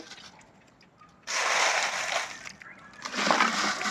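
Liquid fertilizer and onion peels are poured into water, giving a sudden loud gushing splash after a quiet start, then a steady rushing pour that dips briefly and surges again, close by.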